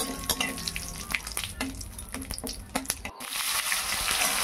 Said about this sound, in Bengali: ওই একই তেলে আরেকটু তেল দিয়ে জিরে ফোড়ন এবং তেজপাতা ফোড়ন দিয়ে দেবো